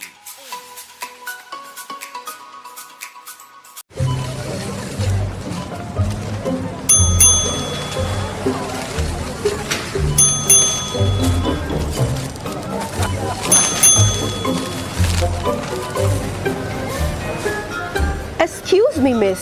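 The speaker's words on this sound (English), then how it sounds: "What's that ding-ding noise?" Repeated bright electronic chimes ring out at intervals over a busy, noisy background with music and chatter.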